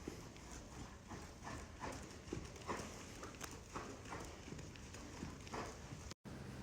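A horse on the lunge clip-clops at a steady, rhythmic trot, the hoofbeats fairly distant and soft against a quiet outdoor background, with a brief dropout near the end.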